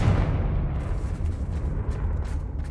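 Deep rumbling blast of the Confringo explosion spell in Hogwarts Legacy, a loud sustained roar that slowly decays without any talk.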